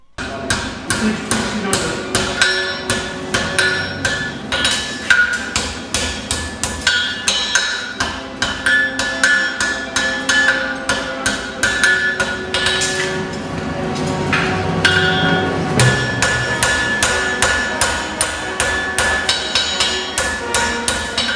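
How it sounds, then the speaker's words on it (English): Hammer blows ring steadily on a horseshoe worked over the bick of an anvil during forging, a fast, loud, regular series of sharp metallic strikes continuing throughout with little pause. "placing the shoe material diagonally over the bick of the anvil, striking at the heel whilst lowering the tongue hand around the bick"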